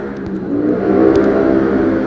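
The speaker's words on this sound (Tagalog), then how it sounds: "Dumadaan yung motor, ang ingay sa ilang mga tambutso." A motorcycle engine revs and whirs nearby, swelling louder as it passes with a rough, buzzing exhaust tone.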